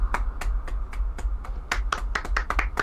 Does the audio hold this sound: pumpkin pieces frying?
no